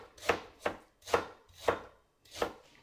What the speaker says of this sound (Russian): Имбирь режу на тонкие кружочки.